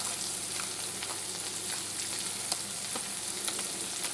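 Green beans sauté in a hot pan, giving a steady, close sizzle and crackle with a few soft stirring clicks scattered through it and no talking.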